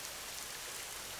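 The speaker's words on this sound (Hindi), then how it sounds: "ये बारिश का पानी तो एकदम बर्फ जितना चिल्ड है" Steady rain falling in a continuous, even hiss of drops on surfaces, dense and fairly loud, with no voices.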